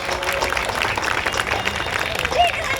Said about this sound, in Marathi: मी सर्वात प्रथम सर्वांना टाळ्या वाजून आदरणीय विकेजी माने यांचं मनापासून आपण सर्वांनी आभार मानावं